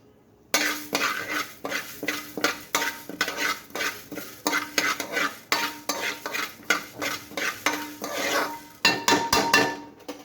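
Fenugreek seeds stirred in oil in a pan, with a rapid run of scraping, clinking strokes as a spoon works the pan under a faint sizzle, steady and close without talk.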